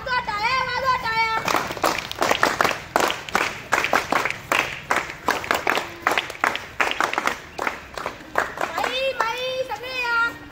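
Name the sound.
audience applause at school play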